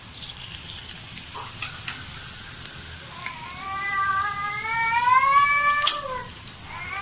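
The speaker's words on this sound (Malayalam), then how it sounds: "ഇനി മുളകും കൂടി ഇട്ടെടുക്കാം" Dried chillies frying in coconut oil with mustard seeds and fenugreek for a bitter gourd curry, a steady close crackling sizzle with scattered pops, while a high wavering cat-like whine rises in the middle.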